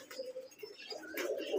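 A male white-headed Giribaz pigeon coos at a Rajshahi pigeon farm, a soft brief burst of low coos, faint and close with light rustling.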